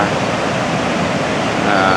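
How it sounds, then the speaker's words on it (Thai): Niagara Falls pours in a steady, loud, unbroken roar of falling water, a dense wash of noise with no other sounds standing out. "น้ำตกก็ไหลไม่หยุดไหลตลอดทั้งวันทั้งคืน"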